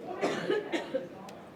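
A few short coughs from a woman boxer during an interview, close and fairly loud in quick bursts, mixed with a bit of chuckling.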